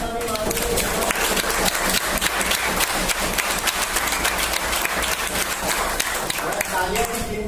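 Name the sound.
applause from congregation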